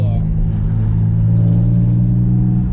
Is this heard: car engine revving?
yes